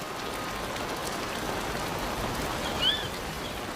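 Steady rain falls across open savanna grassland, a dense, even hiss of drops on the ground that holds constant throughout, with one brief high call rising near the end.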